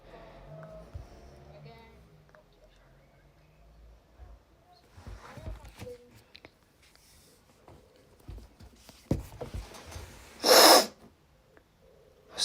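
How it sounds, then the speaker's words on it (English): A person sniffles and breathes in quietly through the nose several times, with faint clicks and rustles, then gives one loud sharp sniff near the end. "Sorry if I keep sniffling."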